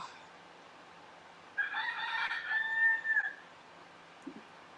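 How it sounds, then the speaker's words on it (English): A rooster lets out a single drawn-out crow at moderate distance, rising out of quiet background and trailing off after about two seconds. "The rooster has spoken."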